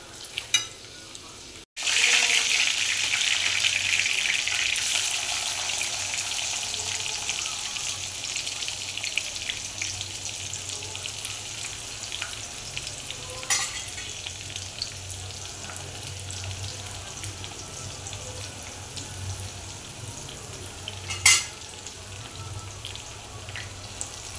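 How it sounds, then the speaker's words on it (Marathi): Paneer cubes fry in oil until browned, giving a steady close sizzle that starts abruptly after a short gap, then eases slightly, with occasional sharper pops and a louder spatter near the end. "हे बघा, आता पनीर ब्राऊन होत आलेलं आहे."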